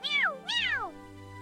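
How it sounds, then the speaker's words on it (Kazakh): Two drawn-out meows from a black cat, close and clear, the second longer and falling in pitch, followed by quiet. "Бұл қара мысық."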